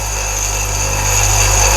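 A drill bit is sharpened freehand on a bench grinding wheel, giving a steady, close, continuous whine and hum of the spinning wheel with a light grinding rasp.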